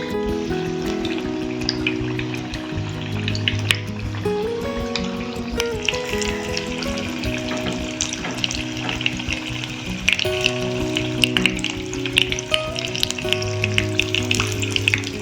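Spinach leaf fritters coated in gram flour batter frying in oil, a dense continuous sizzle and crackle, close and steady throughout with no talking.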